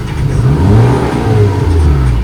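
A Mini Cooper R56 1.6 turbo petrol engine of 175 horsepower, with an automatic gearbox, revs up loudly and close, rising and falling in pitch with a throaty mid-range growl throughout.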